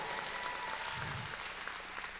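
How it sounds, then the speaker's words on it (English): Brief, soft applause from a church congregation during a sermon, a faint, diffuse patter of clapping in a room that stays low and even. "Give John a round of applause"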